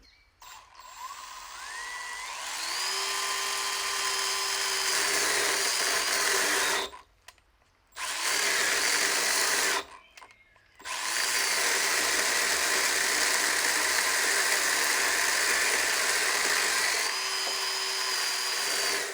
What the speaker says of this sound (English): Let's see how this small chainsaw performs here.